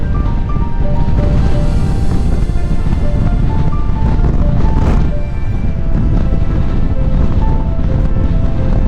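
Strong wind buffets the microphone of a cyclist in a loud, continuous roar, with low rumbling gusts and faint tonal tones drifting underneath.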